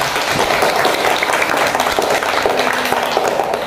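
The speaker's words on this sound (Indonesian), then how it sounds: "Tepuk tangan untuk kita semuanya." A room full of people at a school Friday worship gathering claps loudly and continuously, a dense, even wash of applause with faint voices mixed in.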